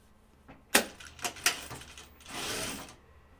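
A sewing machine stitches canvas for a Wallaby bag in a few quiet, uneven bursts with sharp clicks and a longer soft run near the end, no voices.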